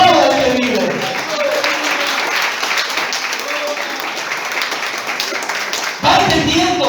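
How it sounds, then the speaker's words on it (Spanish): Church congregation applauding during a Spanish-language sermon, a dense, steady wash of clapping lasting several seconds with a brief dip near the end, mixed with voices. "Aplauda al que vive."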